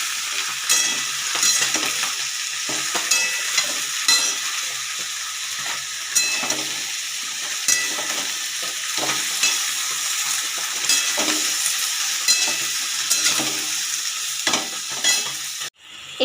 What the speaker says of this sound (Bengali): সবজিগুলো দেওয়া হয়ে গেছে কড়াইয়ের তেলের মধ্যে। এরপর আমি নাড়াচাড়া করে নেব একটু।